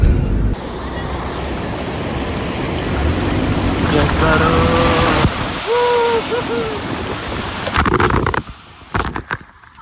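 Fast mountain river water on a road trip near Naran rushes in a steady, loud roar mixed with wind buffeting the microphone, with brief voices heard over it.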